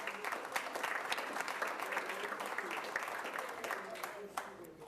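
A school board meeting audience gives a fairly quiet, moderately distant round of applause, many hands clapping in a steady patter for honored school coordinators and principals, with faint voices mixed in.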